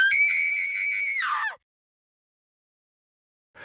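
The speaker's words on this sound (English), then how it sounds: "Scream." A single person's high-pitched scream, loud and close, holding steady for about a second and a half before breaking off, followed by silence and a brief new onset at the very end.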